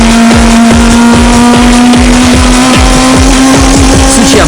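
A race car without a GT wing cornering with slight oversteer during qualifying, its engine a loud steady drone very close by, with a rapid regular pulsing from the exhaust and faint tire noise beneath.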